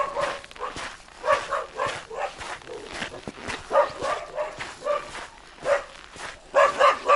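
A dog barks repeatedly in a rural village setting, a series of short, moderately distant barks spaced irregularly and growing a little louder toward the end.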